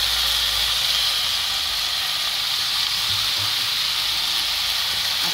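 Fenugreek leaves frying in hot oil in a pan for a mixed vegetable dish, giving a steady, even sizzle and hiss that stays loud and close throughout with no talking.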